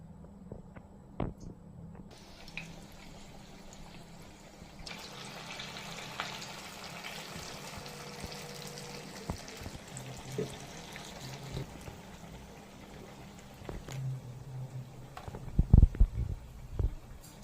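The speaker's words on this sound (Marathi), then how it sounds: "हाताने वडे करून झाल्यानंतर त्याला व्यवस्थित गरम तेलामध्ये तळून घ्यायचे" Sabudana vada, hand-shaped tapioca pearl fritters, frying in hot oil: a soft, continuous sizzle and bubbling with occasional clinks and a few sharper knocks near the end.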